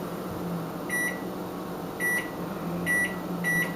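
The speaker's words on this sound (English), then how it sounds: "So I'm going to set my timer." A kitchen timer set while cooking risotto curry gives four short electronic beeps at uneven intervals, clear over a steady low appliance hum, with no one talking.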